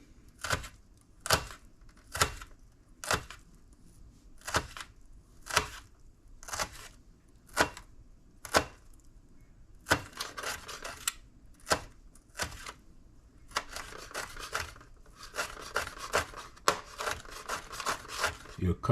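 A knife minces onion on a cutting board in quick, crisp chopping strokes, first spaced singly and then in faster clustered bursts, close and clear with no talk over it.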